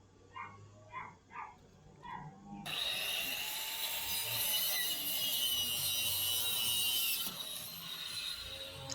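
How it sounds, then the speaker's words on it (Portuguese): Continuous handsaw rasp cutting wooden boards at diagonal angles, steady and fairly close for several seconds after a few short separate scraping strokes at the start. "Olha, então foi cortado as extremidades na diagonal"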